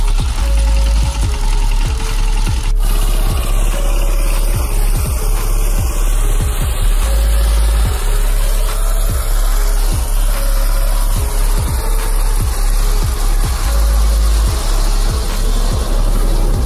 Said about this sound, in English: This power tiller has to be one of the toughest machines to operate.